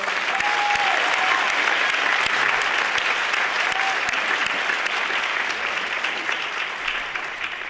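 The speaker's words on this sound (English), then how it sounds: "So can we have a big round of applause for all of those" Sustained applause from an audience at a campus student screening event for Black History Month, a steady dense roar of clapping that holds loud throughout with a few faint whistles or cheers inside it.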